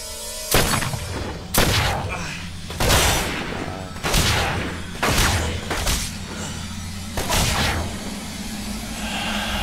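Gunshots in the video game Murdered: Soul Suspect: six sharp, loud shots fired at roughly one-second intervals, each with a short booming tail, over a low steady background hum.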